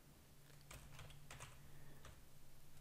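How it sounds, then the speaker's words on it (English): Quiet, fast typing on a computer keyboard, a short burst of soft clicky keystrokes heard close up, with no talking. "we're now going to type in this as"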